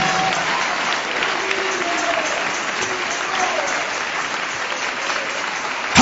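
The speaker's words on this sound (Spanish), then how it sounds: "Dale ese aplauso de alabanza y de victoria a Jesús de Nazaret" A church congregation claps in sustained praise, steady dense applause with scattered voices and shouts underneath.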